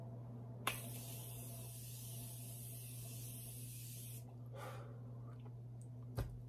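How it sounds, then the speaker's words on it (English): Morphe setting spray misted onto a face in one long, steady hiss lasting several seconds, close and soft, with faint clicks and quiet breathing afterward and no talk. "this setting spray, another holy grail"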